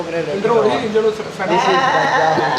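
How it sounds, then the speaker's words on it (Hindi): Male goats bought for Eid bleat repeatedly at close range, their wavering, nasal cries overlapping as a person talks over them. "माशाल्लाह से बकरे"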